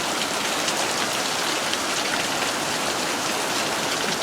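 Heavy rain pours down steadily on a yard in Prescott, Arizona. The hiss is dense and even, with no break and no voices.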